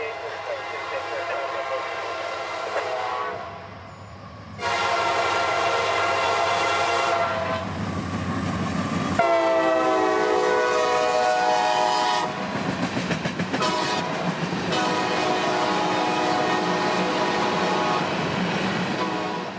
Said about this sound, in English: leaving the train here by just a few minutes as B828 opens it up and roars north